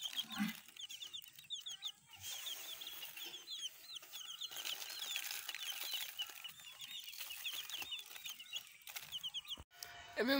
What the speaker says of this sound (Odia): ଏଇଠି ଏମିତି ଦାନା ଏରା କୁକୁଡ଼ା ଖାଇବେ ଆଣିଛି ମୁଁ